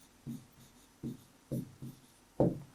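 Pen or marker strokes on a board during a writing lesson, five short scratchy bursts spaced irregularly, the last one loudest, close and otherwise quiet.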